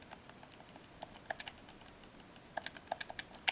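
Faint, sparse computer keyboard typing, individual keystrokes and small clusters clicking close but quietly, without talk.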